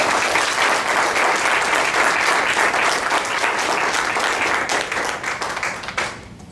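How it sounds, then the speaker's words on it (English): A room full of people at a Republican congressional candidate forum breaks into warm, continuous applause that holds steady and then tapers off toward the end. "If everyone could give them a round of applause."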